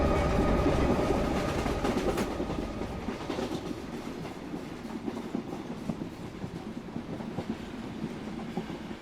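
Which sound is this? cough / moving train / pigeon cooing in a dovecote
moving train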